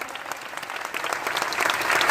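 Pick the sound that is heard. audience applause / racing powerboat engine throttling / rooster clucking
audience applause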